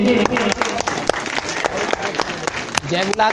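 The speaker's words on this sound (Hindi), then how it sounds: "एक बार पुनः जोरदार ताली के साथ स्वागत करूं भैया मन के।" A crowd applauds steadily at a Ramayana religious discourse, dense clapping at close range that holds for a few seconds, with a voice speaking over it.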